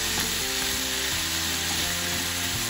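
Soy-sauce-seasoned ingredients sizzle steadily in a pan as the liquid cooks off, a constant close frying hiss with no talking.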